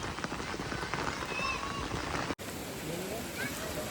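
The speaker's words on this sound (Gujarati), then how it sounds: "બહુ જ ફાસ્ટ વરસાદ ચાલુ થઈ ગયો" Heavy rain pours down in a dense, constant hiss with a brief cut partway through, while faint voices are mixed underneath.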